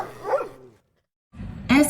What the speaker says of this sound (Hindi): अचानक कुत्ते के भौंकने और बिल्ली के चीखने की आवाजें तेज हो गई।